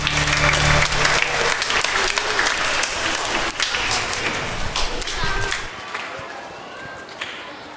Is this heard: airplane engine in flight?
no